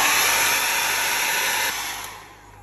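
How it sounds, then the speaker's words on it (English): A hair dryer blows steadily and loudly at close range with a broad airy roar, then eases off slightly near the end. "now we're going to dry it with our hairdryer again"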